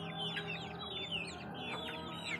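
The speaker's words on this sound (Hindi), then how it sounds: "ये एक चूज़े वाली मुर्गी भी बाहर आई हुई है" A hen with chicks outdoors on a farm, giving repeated soft clucks among high chirps from the chicks and other birds, steady and moderately close, with no talking.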